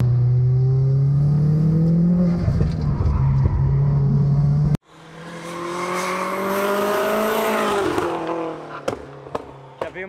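A Subaru STI launches in second gear and accelerates away, its engine note climbing steadily through a long pull after a sharp cut, with a voice talking over it.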